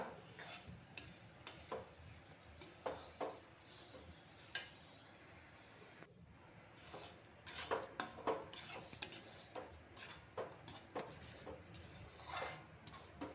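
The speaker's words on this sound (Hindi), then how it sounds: "मैं चमचा इसलिए घुमा रही हूँ कभी ये नीचे लग जाए" A spoon stirring gram flour (besan) being roasted in a pan for laddoos, faint scraping and clinking of metal against the pan in irregular bursts, close and quiet, with no talking.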